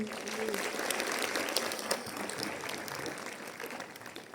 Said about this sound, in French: On peut applaudir Gaetano.